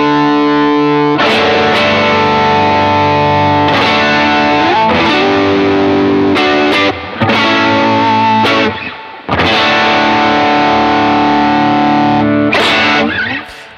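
An electric guitar runs through an MXR Sugar Drive overdrive pedal and strums several loud overdriven chords that ring out, with audible individual notes and brief gaps between strums.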